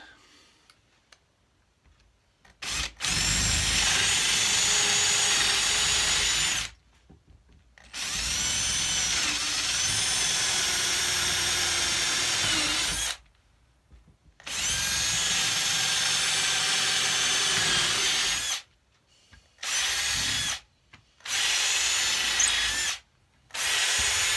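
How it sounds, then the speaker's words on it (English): A power drill whirs in several bursts of differing length, boring holes in wood, separated by short quiet pauses, close and fairly loud. "now we're going to drill these bad boys out"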